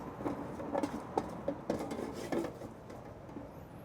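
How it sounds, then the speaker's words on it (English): Asparagus being tossed in bacon fat in a bowl, with a string of light clinks and knocks at an uneven rhythm over a soft, wet shuffling. "So we'll just kind of toss these around to coat them in the fat."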